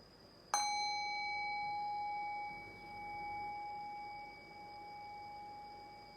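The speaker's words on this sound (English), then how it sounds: "I'll ring the sound of the singing bowl." A singing bowl struck once during a guided meditation, giving a bright metallic strike followed by a pure ringing tone that sustains and slowly fades over several seconds, with no talking.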